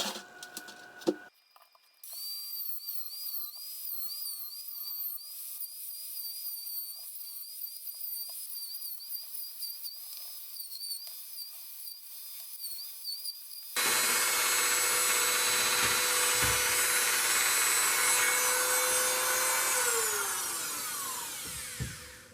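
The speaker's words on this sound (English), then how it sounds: "I have to open it up, and I'm going to use the Dremel tool." A Dremel rotary tool cuts open a disco ball globe, first a steady high whining hum after a few clicks, then a louder harsh grinding rasp for the final stretch, close and continuous.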